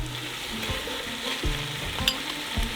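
T-bone steak pieces sauté in a pan for a Lebanese beef stew, a steady close sizzle broken by several soft scraping stirs and a faint clink, with no voices.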